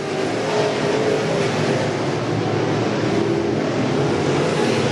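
Pro crate race cars roar around a short track in a steady, loud, unbroken wash of engine noise, with several cars running together and no voices heard.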